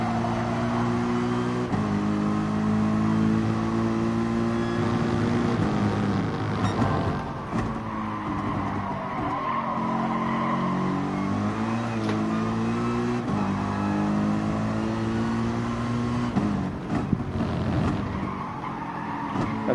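Porsche race cars roaring around a slippery track in the GT Sport racing game, sustained engine drone with gear-shift pitch changes and brief tire skids, no talk.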